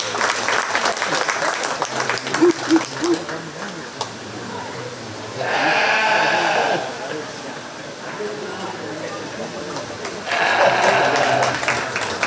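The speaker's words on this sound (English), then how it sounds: "Let's give these guys one more round of applause." Applause from a crowd at a 4-H sheep show in a county fair ring, two bursts of clapping, sustained and fairly loud, with an announcer's voice speaking before and between them.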